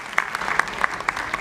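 An audience at a Marathi music awards ceremony applauds a guest, a steady stream of clapping with a few sharper individual claps standing out near the front, continuous and moderately loud.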